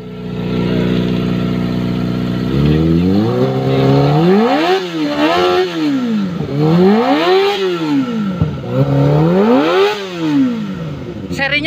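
A Kawasaki ZX25R fitted with a Falcon exhaust revs hard and close, rising and falling through several sharp throttle blips after a steady idle, loud and alone.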